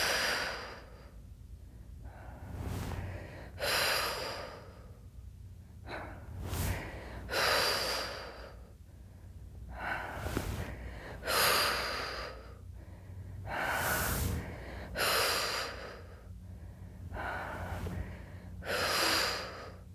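Deep, forceful breathing during a stomach crunch exercise, roughly nine slow cycles of loud inhales and exhales close to the listener, with no talking.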